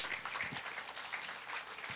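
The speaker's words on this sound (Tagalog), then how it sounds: "The best na palakpak" A church congregation applauds through a worship service, a steady dense patter of clapping at moderate loudness with no break.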